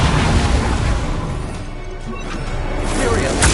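Bombarda explosion spells go off in Hogwarts Legacy amid a dense, loud wash of combat noise, with booming bursts swelling at the start and again toward the end.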